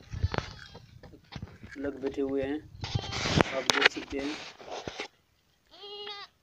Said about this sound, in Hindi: यहाँ पर बकरी के छोटे बच्चे